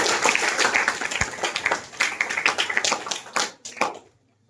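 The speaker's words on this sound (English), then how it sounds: "Clap hands for him." A classroom audience claps for a student after a presentation, a brisk burst of hand clapping lasting several seconds before it tapers off into silence.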